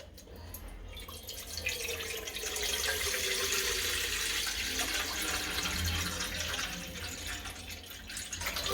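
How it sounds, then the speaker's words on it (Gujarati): Water poured into a steamer pot while making methi muthiya in a home kitchen, a steady soft splashing and trickling that runs continuously, fairly quiet with a faint hiss throughout. "હવે આમાં પાણી નાખી દઈશું।"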